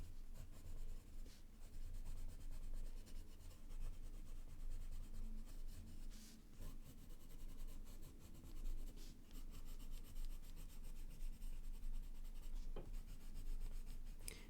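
Colored pencils scratch and rub steadily across paper while a floral bouquet is drawn, a close, continuous dry scribbling with short strokes and brief pauses, alone with no talk.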